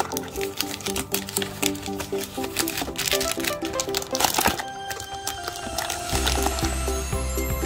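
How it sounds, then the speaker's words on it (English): Packs of 2020-21 Panini Recon basketball trading cards are shuffled by hand, giving dense rapid crinkling and flicking of foil wrappers, close and busy, with a brief louder burst midway. "I think we'll shuffle the packs."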